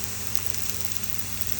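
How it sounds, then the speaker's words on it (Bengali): Potatoes frying in a pan give a continuous, even sizzle, close and steady for a brief moment. "তো এই দেখো আলু ভাজা হয়ে গেছে"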